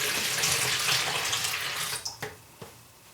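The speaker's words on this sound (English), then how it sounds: "I have gone ahead and put 30 ounces of water into this ice cream bucket" Water pours from a tap into a plastic ice cream bucket in a steady hissing stream, then stops, leaving a few drips and splashes, up close with no talk.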